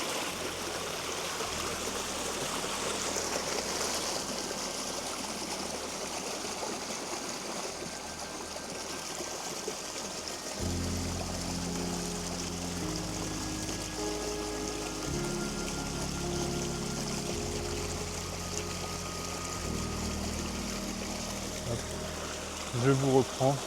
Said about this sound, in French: on arrive près d'un petit ruisseau.